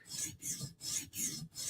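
A Spyderco knife blade is drawn across a sharpening stone in four even back-and-forth rasping strokes, close and moderately loud, with brief pauses between passes.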